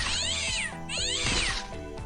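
Cat meowing in the game XPiratez, two long drawn-out caterwauling cries close and loud over steady game music.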